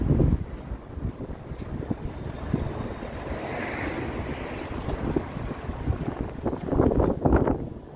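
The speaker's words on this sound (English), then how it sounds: "So now the wind is behind us" Wind buffeting a microphone outdoors in downtown Toronto on a cold afternoon, a loud rumbling roar with gusts that swell near the end, without talk.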